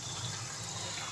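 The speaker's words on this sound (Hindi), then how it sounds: "और अब इस दाल के अंदर थोड़ा सा मैंने पानी भी ऐड किया है।" Water pours steadily into dal cooking in a pan with spiced masala, a continuous close gushing hiss with no talk.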